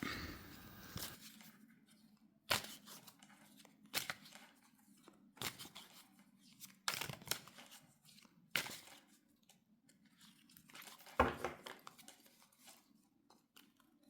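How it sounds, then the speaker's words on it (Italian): A deck of tarot cards is shuffled in quiet, irregular bursts of soft riffling and slapping, close by, over a faint low hum. "Rimescoliamo dunque il mazzo"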